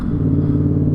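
Yamaha XSR700 motorcycle engine on the throttle, a steady close rumble with an even low drone that holds at a constant pitch through the short stretch, no voices.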